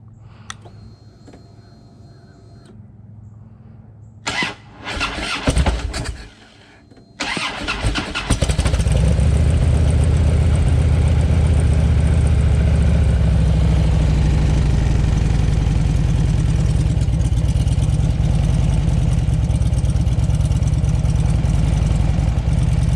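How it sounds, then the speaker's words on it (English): A 2005 Harley-Davidson Electra Glide Ultra Classic, fitted with a swapped-in Twin Cam 96 engine and six-speed, cranks and fires after a few short bursts, then settles into a loud, steady, lumpy idle that runs alone to the end. "bike fires up just fine"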